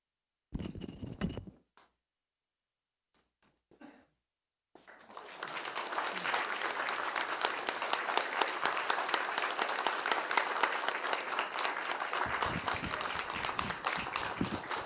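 A church congregation at a pastor's installation service breaks into sustained, dense applause that continues for about ten seconds, preceded by a few scattered claps and brief sounds from the hall.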